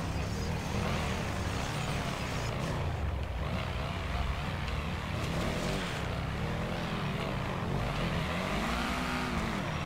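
Loud, continuous roar of a car engine in GTA 5, sustained throughout at close range with revving swells, under faint background chatter.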